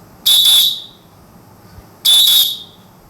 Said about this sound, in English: now let's listen what a whistle sound plays